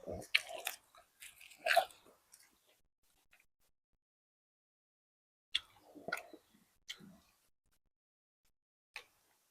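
Crunchy roasted rice mixed with cicadas is chewed close to the mic in two short bursts of crisp bites and crunches, separated by a few seconds of near silence.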